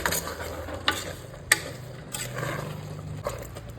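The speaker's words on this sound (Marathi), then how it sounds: "हे सगळ्यांनी आमी आतां बरें मिक्स करून घेवया." Turmeric powder, sugar and cardamom powder being stirred into a mixture in a pan, with soft scraping strokes and a low sizzle running underneath, plus a few sharper clicks of the spoon against the vessel.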